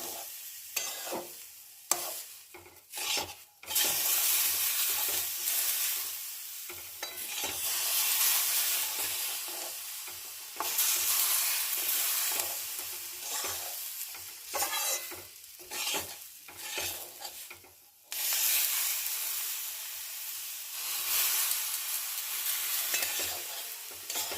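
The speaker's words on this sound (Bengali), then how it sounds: "এবার আমি অল্প অল্প করে জলের ছিটে দিচ্ছি একসাথে বেশি জল দেব না" Semolina upma being stirred in a pan with water sprinkled in, a steady close sizzle and scraping stir that drops out briefly several times, with no talking.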